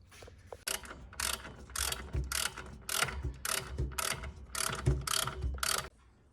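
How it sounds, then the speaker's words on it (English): A ratchet wrench clicks in repeated fast bursts while loosening the aircon compressor on a 1970 ZC Ford Fairlane, with about eight close, loud strokes in a steady rhythm and short pauses between them. "Take off the aircon compressor."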